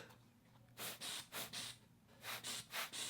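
A small hand-squeezed air blower puffs dust off a camera lens, about eight short breathy hisses in two quick groups, close and quiet.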